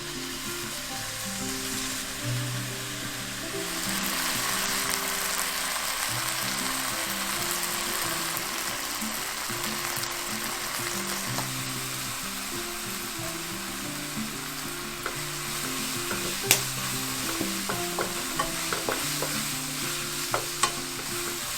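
Preserved mustard greens stir-fried with soy sauce, vegetarian oyster sauce, sugar, pepper and five-spice powder give a close, continuous sizzle under a steady churning stir, with a few clicks of the utensil near the end and no talking.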